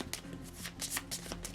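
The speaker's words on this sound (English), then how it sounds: "so I'm just going to quickly shuffle them." A deck of cards for the Bardsung board game is quickly shuffled by hand, with a rapid series of crisp riffling bursts, close and fairly quiet.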